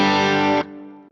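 An electric guitar on the clean channel of a BOSS IR-2 sounds a loud, slightly gritty sustained chord that stops abruptly after about half a second, leaving a short fading tail.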